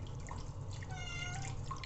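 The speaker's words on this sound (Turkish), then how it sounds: "arkada sürekli miyavlıyor" A cat meows persistently in the background of a home kitchen, thin drawn-out cries heard faintly behind running water and a low steady hum, with no talk.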